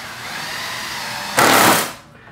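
A power driver sends a 1/8 inch self-tapping tech screw into a Club Car golf cart panel during a Sleekline installation. A loud, half-second whirring burst rises over faint background noise, then stops.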